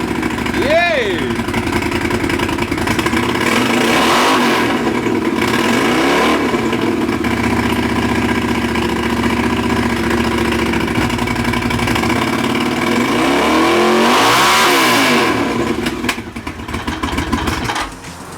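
A Honda CX500 cafe racer motorcycle engine idles steadily up close, with two strong revs that rise and fall, the second near the end followed by a rougher, uneven idle.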